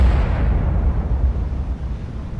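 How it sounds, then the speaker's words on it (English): Missile explosion in the submarine game Cold Waters, a loud, deep, rumbling blast that fills the whole moment and slowly eases off, with no voices over it. "sound corner explosion on the bearing of Master 2."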